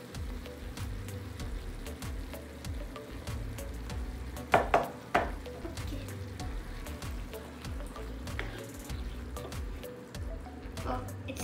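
Stuffed eggplant in tomato sauce sizzles gently in a pan, a faint steady frying hiss with a few sharper clinks and stirring sounds partway through, and a voice talking quietly now and then.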